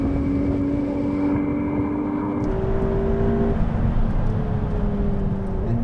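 A McLaren 720S supercar accelerates hard down a runway in a drag race against a Ferrari 488 Pista and Lamborghini Aventador SV, engine note rising steadily in pitch through gear changes, loud and sustained with wind buffeting, no talking.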